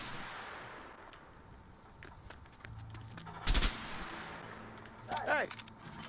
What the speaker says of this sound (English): The M14 packs quite a punch from all ranges.